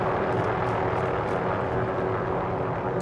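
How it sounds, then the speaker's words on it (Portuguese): A helicopter in the Warzone battle royale video game drones overhead as a steady, broad rumble with a faint rotor throb, holding constant and fairly loud throughout with no voices. "Olha o helicóptero aí ó."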